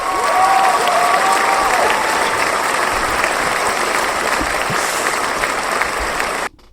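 A recorded applause sound effect plays during a casual chat, a dense, loud burst of crowd clapping with some cheering that runs steadily for several seconds before cutting off sharply.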